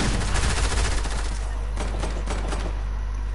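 Rapid gunfire in a video game arena match, dense clattering shots strongest at the start and thinning into scattered cracks over a steady low hum.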